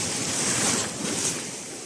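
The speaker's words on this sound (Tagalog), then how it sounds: "Ayan, yung mga alon, no?" Ocean waves colliding over a sandbar near islands at low tide, heard as a loud, close, continuous rushing wash with wind buffeting the microphone.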